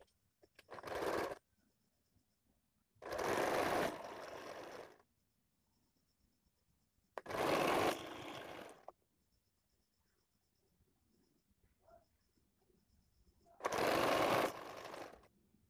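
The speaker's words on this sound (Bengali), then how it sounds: "হাতার মুহুরি প্রথমে সেলাই করে নেব নিচ থেকে ফোল্ড করে" An electric sewing machine stitches the folded cuff of a nightie sleeve in four loud, close bursts of rapid whirring, separated by quiet pauses with faint handling of fabric.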